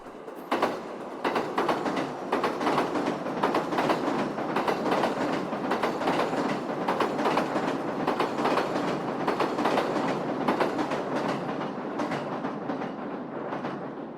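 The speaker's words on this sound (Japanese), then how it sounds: "白馬駅を出てすぐに列車は松川を渡ります。" An Oito Line train leaving Hakuba Station in Japan rolls steadily along the rails crossing the Matsukawa river, with a continuous rumble and rhythmic clicking of wheels, loud and close throughout.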